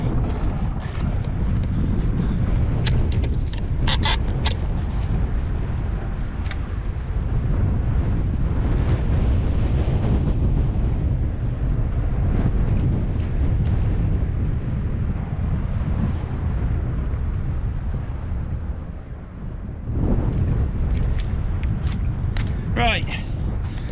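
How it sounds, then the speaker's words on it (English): Strong wind on the Lincolnshire coast at Sandilands buffets the microphone in a constant loud, low rumble, with surf in the background and brief gaps where someone speaks. "This wind is blowy, isn't it?"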